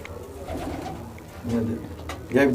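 Racing pigeons in a Haryana loft coo in low, rolling calls, near and moderately loud, with a murmur of background voices and a louder coo at the end.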